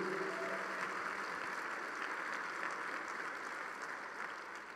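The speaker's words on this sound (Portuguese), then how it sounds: "Dá um aplauso a Jesus." A church congregation gives a sustained round of applause during a worship service. The clapping is steady and dense, heard from a moderate distance, and fades slightly at the end.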